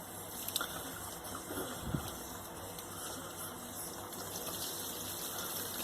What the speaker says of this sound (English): Let's turn the sparge on a little bit more now.